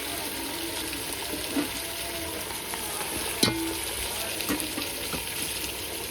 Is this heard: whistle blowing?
no